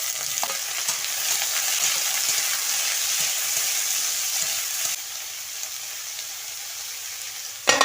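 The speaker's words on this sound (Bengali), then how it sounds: "আমি বেগুন আর আলুগুলো কেটে রেখেছিলাম সেগুলোকে দিয়ে দেবো" Cubed potatoes and eggplant dropped into a pan of onions and whole spices fried in oil, giving a steady, close, loud sizzle that eases slightly partway through, with a brief clatter at the end and no talking.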